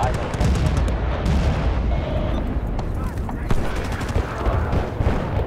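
Battlefield: Bad Company 2 tank cannon fire and battlefield explosions rumble continuously at high volume, dense booms and gunfire layered throughout with little pause.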